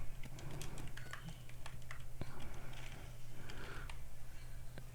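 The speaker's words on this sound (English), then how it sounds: "Type it." A computer keyboard clicks with quick, irregular taps at close range, forming a light, steady patter of keystrokes over a low background hum.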